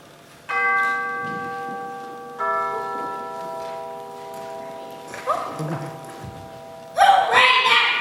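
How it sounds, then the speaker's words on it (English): A ringing bell sounds twice, each stroke leaving a long, clear tone that slowly fades, followed by scattered rustling and knocks and a burst of voices near the end. "Who rang that bell?"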